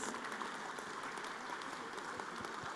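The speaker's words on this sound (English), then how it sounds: "let's give a big applause to all of the speakers" An audience claps for the speakers at the close of a plenary session at the AICIS 2023 academic conference, a dense, steady wash of applause filling the hall throughout.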